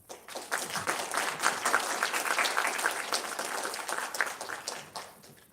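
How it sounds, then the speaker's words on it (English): At an awards event, an audience gives a round of applause for newly announced co-presidents: a dense, steady patter of many hands that swells quickly, holds for several seconds, then fades out. "Please give them a round of applause."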